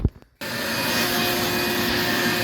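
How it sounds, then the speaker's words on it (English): A wet/dry vacuum pulls standing water from the flooded passenger-side floor of a BMW X3 with a water leak, a loud steady roar starting abruptly after a brief moment of quiet handling noise and running on close by with no talk. "direct all the water in there, and then soak it up with a vacuum"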